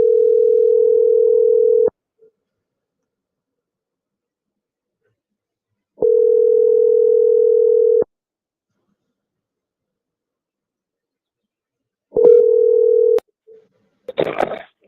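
A telephone rings while calling a buyer: three evenly spaced ringback tones, each about two seconds long, separated by long silences, followed by a brief click and rustle as the line is picked up.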